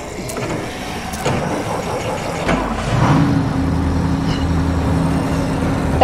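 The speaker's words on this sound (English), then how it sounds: "That's a loud engine." A car engine in The Walking Dead: A New Frontier video game idles and then revs up with a steady low hum, fairly loud and close, continuing without pause.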